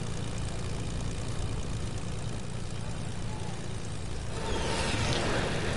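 A propeller airplane engine in a PS4 video game drones continuously and loudly, a steady buzzing roar that swells slightly brighter near the end, heard alone without talk.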